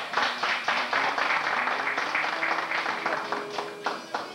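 Applause from the audience at a Portuguese cantoria singing contest at the Portuguese American Civic League in Lowell, Massachusetts, a steady patter of many hands clapping, with some tonal sound mixed underneath.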